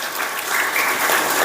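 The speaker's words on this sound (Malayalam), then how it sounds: "എല്ലാവരും ഒന്ന് കൈയടിച്ച് അദ്ദേഹത്തിന്." Audience applause at an iftar gathering, steady dense clapping from a crowd that holds evenly throughout and swells slightly in the second half, with no talking over it.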